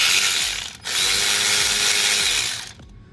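A power tool spins in two loud, close bursts separated by a brief pause, removing small bolts with a 10 mm socket while working on the vacuum pump seal of a 2008 VW Beetle 2.5 l.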